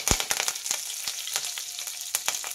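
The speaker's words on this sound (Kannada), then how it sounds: "ಎಣ್ಣೆ ಬಿಸಿಯಾಗಿದೆ, ಸಾಸಿವೆ ಹಾಕ್ತಾ ಇದ್ದೀನಿ. ಸಾಸಿವೆ ಒಂದು ಸ್ವಲ್ಪ ಸಿಡಿಲಿ." Mustard seeds and curry leaves spluttering in hot oil for a wedding-style mixed vegetable palya, rapid crackling pops and snaps over a steady sizzle, close and lively throughout the short stretch without talking.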